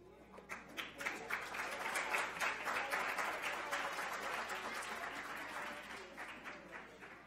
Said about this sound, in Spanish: Fuerte el aplauso para Kelwin Negrón y Alondra Villot